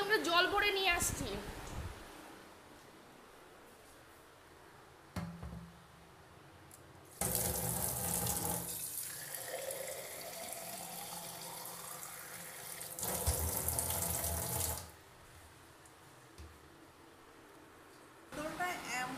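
Tap water runs into a water bottle in bursts: a loud rushing stream at about seven to fifteen seconds, with shorter splashes at the start and end and quieter gaps between, close to the microphone while voices speak around it.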